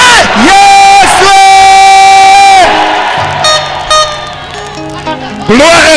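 A church congregation at a sermon breaks into loud bursts of cheering and shouted acclamation, sustained voices rising together, then easing before a fresh swell at the end.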